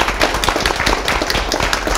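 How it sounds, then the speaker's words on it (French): A group at a neighbourhood associations launch event applauds itself loudly. The clapping is close and vigorous, a dense run of sharp overlapping claps. "ils vont s'applaudir très très fort"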